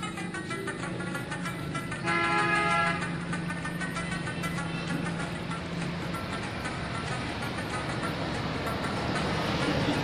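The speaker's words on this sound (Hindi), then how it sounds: "यहाँ पे ये जो रोड है माशाल्लाह हर वक्त चलती रहती है" Morning city road traffic, with a continuous wash of passing vehicles and one short horn blast near the start, heard from the roadside.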